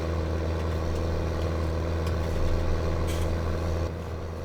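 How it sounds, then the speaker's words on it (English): A T7 tractor engine drives flat out in Farming Simulator 2017, a steady low droning hum with constant tonal rumble, holding evenly throughout with faint clicks and no speech. "I'm actually surprised about how slow this tractor is going."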